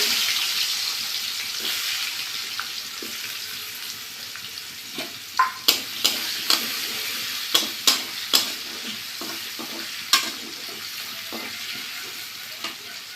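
Vegetables fry in hot oil tempered with black cumin, a low continuous sizzle punctuated by a series of sharp clinks and scrapes from a utensil against the pan.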